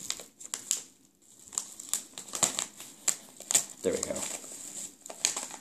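Crinkling and tearing of tape on a mail package being opened, a series of close, scattered crackles and rips with a short louder crumple burst, under intermittent talk.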